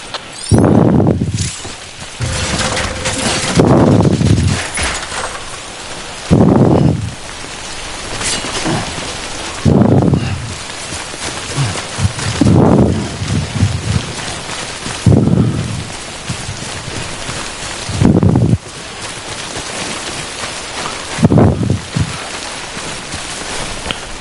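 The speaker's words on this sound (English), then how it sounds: "How do I get out of the rain?" Rain in Death Stranding falls as a continuous hiss, broken by repeated heavy low rumbling swells every few seconds, loud and close, with no voices.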